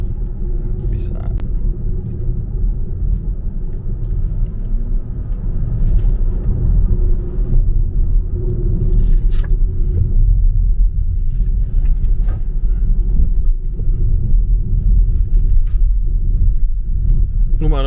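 A Tesla Model Y rolls over a rough, patched road with a continuous low rumble and occasional bumps and jolts from inside the cabin, while someone talks throughout.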